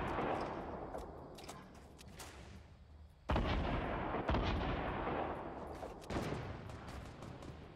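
Gunfire in the Fortnite Battle Royale video game, a dense run of rapid shots and booming blasts that grows louder partway through with sharp, punchy reports, and no talk over it.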